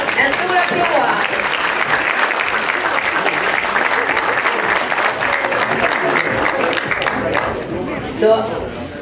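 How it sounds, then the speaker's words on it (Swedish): Loud, sustained applause and cheering from the crowd at a classic bodybuilding competition in Sweden, a thick continuous roar of clapping with voices mixed in, easing slightly toward the end. "En stor applåd."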